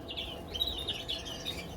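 A caged English cinnamon canary chirps in a bird room, a few short, thin high tweets scattered over a soft background hiss.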